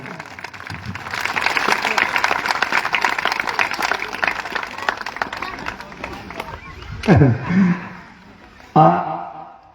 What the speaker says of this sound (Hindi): एक बार जोर से ताली।